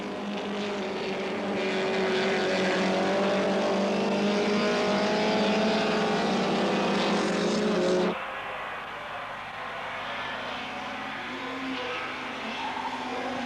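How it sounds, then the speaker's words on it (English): A trio of classic race cars, a Giulietta SZ leading a Ginetta and a Lenham Sprite, roars past on a circuit, loud sustained engine drone that cuts off abruptly, leaving a quieter, more distant engine hum. "A lovely trio here, led by a Giulietta SZ, then the Ginetta and Raimund Kamp's Lenham Sprite."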